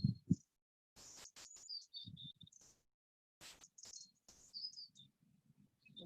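Birds singing outdoors in short bright chirps and trills between quiet gaps, with scattered low rustles and soft thumps nearby.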